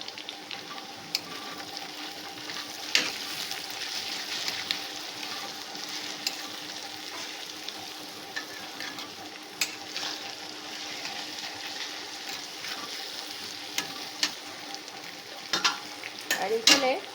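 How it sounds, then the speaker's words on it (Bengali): Mixed vegetables with three green chillies stirred in a frying pan, sizzling softly and steadily with occasional scrapes and clinks of the spoon, close up and with no voices. "এরপর এই নাড়তে নাড়তে একটুখানি নরম হয়ে গেছে, এরপর আমি সবজিটাতে নুন দিয়ে দেবো"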